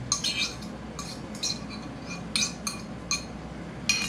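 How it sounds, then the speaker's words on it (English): A whisk clinks against a bowl of three eggs in quick, irregular taps and scrapes, fairly close, over a steady low hum. "just whisk it up together, get it combined"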